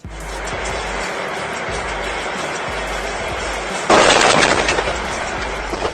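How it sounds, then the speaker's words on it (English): A sudden loud explosive burst as a plane crashes onto a road cuts through steady rumbling engine noise, then slowly fades back into the ongoing roar. "it crashes onto the road and erupts into a fiery explosion."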